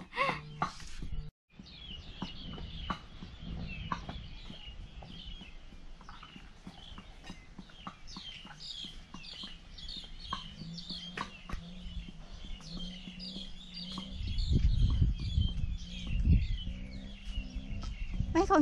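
Birds chirp and call repeatedly from a bamboo thicket outside a rural garden in Ben Tre, with steady bright tweets over soft ambient noise and a louder low thumping near the end.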